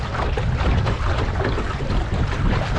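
Loud, steady wind roars across the microphone on a small boat sailing under a single sail, with water sloshing faintly beneath the constant gusty rumble.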